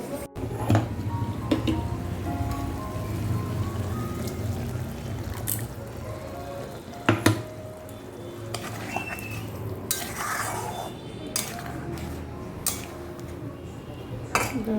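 Pointed gourd simmers in a pan for posto, giving a soft, steady sizzle under clinks and scrapes of a utensil against the pan, with a few sharper knocks.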